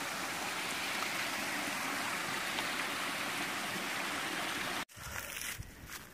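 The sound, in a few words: waterfall cascade beside a hiking trail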